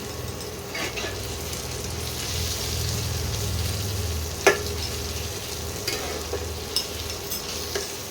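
Spice paste for green chicken sautéed and stirred in a hot pan, a steady close sizzle with soft scraping strokes and a few sharp spoon clicks against the pan.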